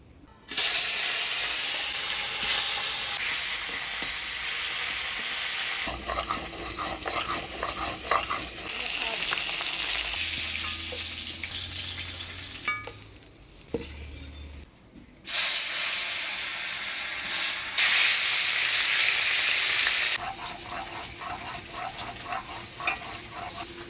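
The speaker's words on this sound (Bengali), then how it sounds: "এবার মাছগুলো ভেজে নিই। দিয়ে দিচ্ছি সরষের তেল।" Fish frying in mustard oil in a pan for a Bengali fish curry, a loud steady sizzle and spatter with hissing bursts that ease off and then rise again, heard alone with no talking.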